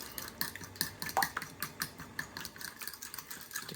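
Yellow mustard and honey get whisked briskly in a bowl, giving a quick, uneven series of close clicking and scraping taps from the utensil against the container.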